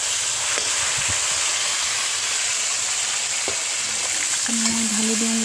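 Boiled potatoes hiss and sizzle steadily as they fry in a hot pan for an Assamese home-cooked lunch, with a brief stirring clatter and a faint hum near the end.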